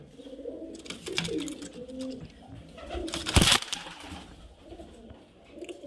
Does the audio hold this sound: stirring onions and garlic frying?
no